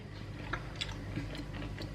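Close-up chewing of chicken with soft crunches and moist bites repeating irregularly, no talking, over a low steady background hum.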